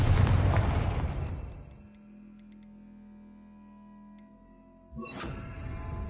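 A loud, booming Confringo spell explosion in the Hogwarts Legacy video game opens the clip and rumbles away over about two seconds. Faint tinkling debris and a low hum follow, then a second burst hits near the end.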